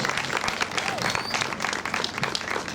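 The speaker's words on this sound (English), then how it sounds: "Please, man, a big round of applause." Outdoor crowd applause at a Wear Orange community event in Rev. Arthur Mackey Sr. Park, dense continuous clapping with scattered shouts.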